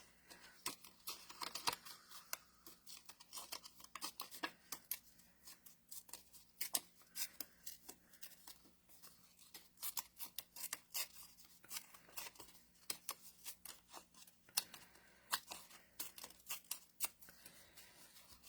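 Paper being torn by hand into pieces, heard as a quiet series of quick rips and rustles in irregular bursts, close and alone.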